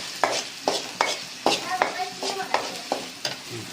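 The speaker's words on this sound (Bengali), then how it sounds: "এখন হাতা দিয়ে এটা লাড়তে থাকবো যত পর্যন্ত হালকা লাল লাল না হয়ে যায়" Chicken being stirred in a kadai with a ladle, about ten rhythmic scraping strokes of metal on metal over a soft background sizzle, close and clear.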